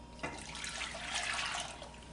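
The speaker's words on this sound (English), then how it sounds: "Pour the mixture into a saucepan" A chocolate cashew mixture is poured into a saucepan with a soft, continuous liquid splashing and trickling that starts abruptly and stays fairly even, close and moderately quiet.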